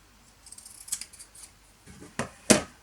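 Scissors snipping the corner off a sewn fabric bag, with a few soft preliminary snips followed by two sharp, close, crisp cuts, the last one loudest.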